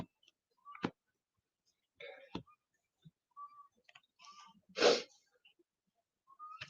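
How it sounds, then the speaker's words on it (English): A woman sneezes once indoors, a sharp, close burst. Before it come a few small clicks, sniffs and breaths, and nobody speaks. "I'm going to sneeze."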